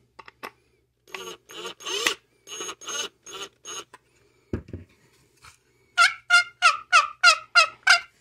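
Turkey yelps from a homemade wooden box call: a few scratchy strokes, a short pause with a faint knock, then a rapid run of about eight loud, even yelps.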